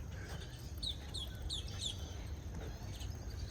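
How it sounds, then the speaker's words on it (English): A bird at the Venetian Gardens in Leesburg, Florida gives a quick series of high chirping calls, fairly faint over a low steady background hum of the outdoor setting. "It's just a bird making noise."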